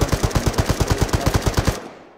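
Rapid automatic gunfire in the video game Arma 3, a close, loud burst of about fifteen evenly spaced shots that stops abruptly, followed by a short fading tail.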